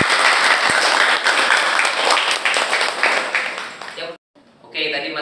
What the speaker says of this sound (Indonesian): Tepuk tangan untuk kelompoknya.